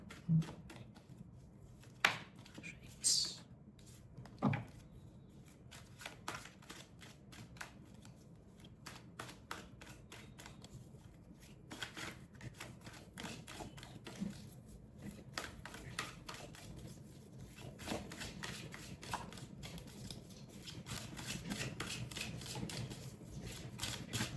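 Tarot cards are shuffled close by in a steady stream of rapid riffling and snapping, with a few louder taps and some card handling near the start.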